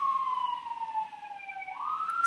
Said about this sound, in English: while this ambulance gets crazy